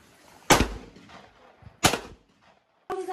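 Two sharp, loud shotgun blasts at a clay trap shooting range, about 1.3 seconds apart, each a sudden crack with a brief rumbling tail, followed by a short voice at the end.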